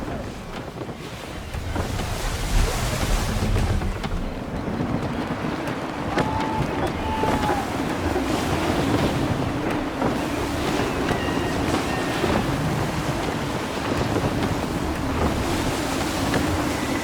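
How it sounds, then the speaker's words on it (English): Gusty wind roars and waves wash against a sailing ship in Assassin's Creed 3, a loud, continuous blustery rush with low surging swells, unbroken by speech. "Wind looks to be shifting. Stay alert, Connor. Gusty winds can be difficult to manage."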